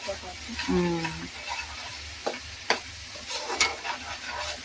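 Ginger paste sizzles and fries in hot oil with curry leaves for a crab curry, a steady close crackle with a few stirring scrapes and knocks against the pan.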